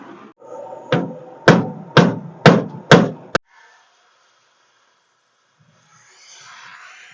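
Five sharp, heavy metallic hammer blows land about half a second apart on an abandoned 1946 International, close and loud, followed by near silence and a faint hiss.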